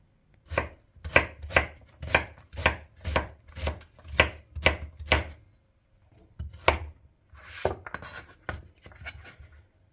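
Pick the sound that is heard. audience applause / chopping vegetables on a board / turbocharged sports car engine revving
chopping vegetables on a board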